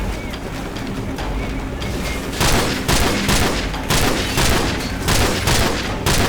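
Gunfire from Call of Duty 4: Modern Warfare's sniper mission 'One Shot One Kill': loud, repeated bursts of shots and booming reports pound over steady battle noise throughout.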